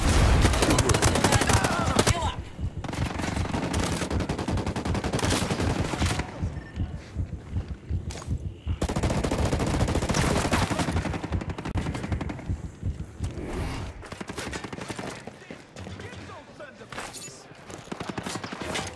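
Rapid bursts of automatic gunfire and single shots ring out in the tactical shooter Ghost Recon Breakpoint, dense and loud for long stretches with brief lulls, while squadmates call out under the shooting.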